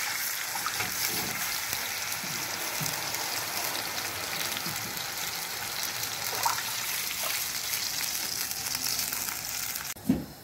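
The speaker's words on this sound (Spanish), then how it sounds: "Ahora procedemos a agregar el agua." Water pours into a pan of garlic frying in oil, producing a steady, dense sizzling hiss that runs nearly unbroken for about ten seconds, with a brief louder splash near the end and no talking.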